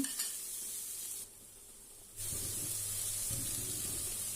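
Cabbage with fried coconut cooking in a pan, a bright close sizzle that drops out briefly midway, then resumes with low rumbling and stirring scrapes, steady and without talk.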